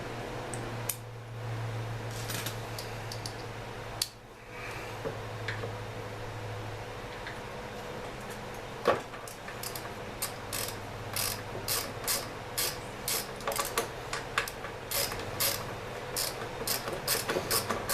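A ratchet wrench clicks as a 10mm bolt is backed out of a Craftsman lawnmower, bursts of quick close ticking with short pauses, growing denser and more rhythmic toward the end over a faint hum.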